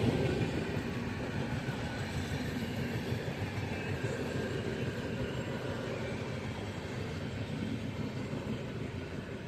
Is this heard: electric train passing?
yes